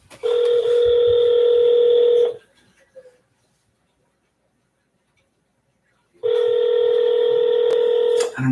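Phone tones while placing a cold call: two long, loud, steady electronic tones at close range, separated by a few seconds of near silence.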